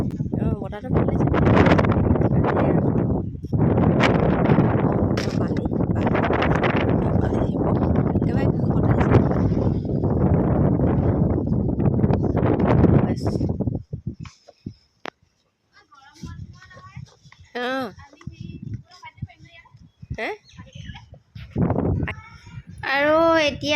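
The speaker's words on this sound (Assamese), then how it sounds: "ইমানেই বতাহ মাৰিছে, চুলিৰ পকা উৰুৱাইছে" Strong wind gusts across a rooftop, roaring and buffeting the microphone in a steady, loud rush for most of the clip before easing into quieter, intermittent sounds with voices talking.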